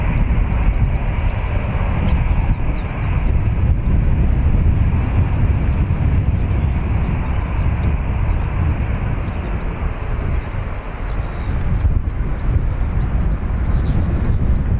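A plane departing Dublin Airport for Porto makes a loud, sustained engine roar that stays close and heavy throughout, with no talking.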